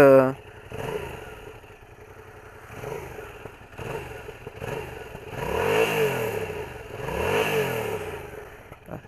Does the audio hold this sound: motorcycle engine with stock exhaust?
yes